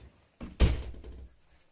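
A door swings shut with a single dull thud, a short rustle just before and a brief low rumble trailing after in a quiet room.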